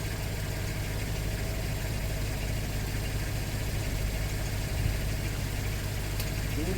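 A Honda CB200 motorcycle with new piston rings idles steadily and loudly right after its first start-up, a constant even engine rumble with no speech.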